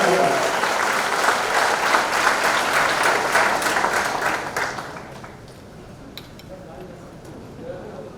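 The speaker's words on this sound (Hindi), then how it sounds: "हाथ उठाकर, हवा में हाथ उठाकर जोरदार तालियां" An audience claps loudly for Manya Singh's mother Manorama Singh, a full roar of applause for about four seconds that then fades out to scattered claps and quiet room noise.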